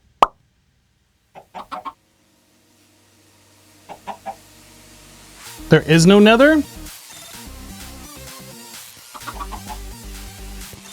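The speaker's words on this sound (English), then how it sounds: "That chicken just popped into existence." Chicken clucks in the Minecraft Stoneblock 2 modpack, a few short, soft plops and clucks scattered through the clip, followed by a brief louder burst, with a person talking over parts of it.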